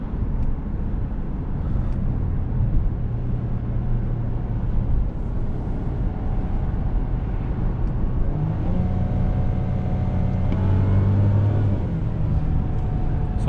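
A 2019 Mercedes-Benz GLC 300 accelerating, heard from inside the cabin as a steady low engine rumble that rises in pitch through the gears, with tonal shifts as it upshifts, continuous and fairly loud with no talk.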